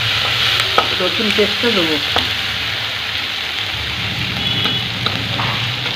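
Onions sizzle and fry steadily in a pan for a home chicken and potato curry, a continuous close crackle with a few scraping stirs, while someone speaks briefly over it.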